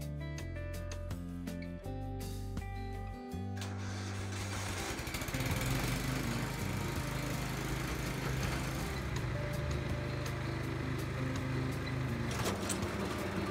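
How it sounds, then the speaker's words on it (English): A Kubota riding mower after a deck spindle overhaul and new belt runs with its blades engaged, giving a loud, steady engine drone with spinning-deck whir. Distinct mechanical clatter comes first, then continuous running without voices. "The engine isn't hesitating when the mower blades are engaged, the bearings aren't squealing"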